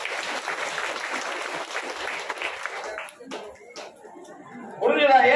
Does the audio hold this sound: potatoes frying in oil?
no